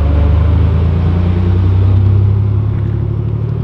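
A tuned Honda Civic Si turbo making about 600 hp pulls away at a car meet, its engine booming in a loud, steady low rumble that stays strong and up close the whole time, with no voices.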